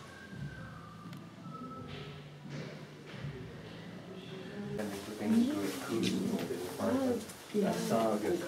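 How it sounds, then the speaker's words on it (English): Pigeons or doves cooing outdoors at a Russian settlement in Svalbard, soft repeated coos in the background while people talk nearby and a siren-like tone drifts in partway through. "Birds."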